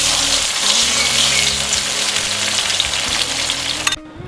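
Chicken pieces and onions frying in a pot for boneless white handi give off a loud, steady, close sizzle that stops abruptly near the end.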